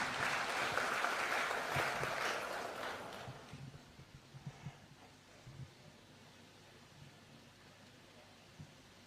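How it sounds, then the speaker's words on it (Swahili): Applause from a crowd at an official bill-signing ceremony for the affordable housing levy starts loud and dense, then fades after a few seconds, leaving scattered claps and quiet room noise. "One more round of applause, please."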